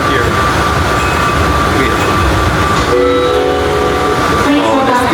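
Train at a station, a loud rumbling rail car with clattering and a sustained horn-like tone rising partway through, a brief spoken word heard over it.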